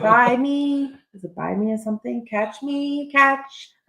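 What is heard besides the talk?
No everyday noise stands out behind the speech.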